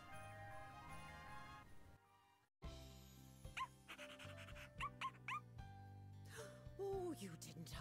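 A dog whimpering and yipping in the video game Bravely Default 2, several short high yelps over game music, with a brief silent gap before the cries begin.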